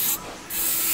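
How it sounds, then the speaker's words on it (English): Aerosol mass airflow sensor cleaner sprayed onto the sensor from a Toyota Prado 150 engine: two close, loud hissing bursts separated by a brief softer pause. "Just give them a spray."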